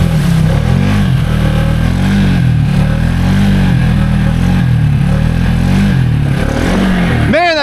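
Engine of a Can-Am Outlander ATV fitted with 18% gear reduction and 33-inch tires, revving hard and steady while doing wheelies, loud and close throughout with rising and falling pitch.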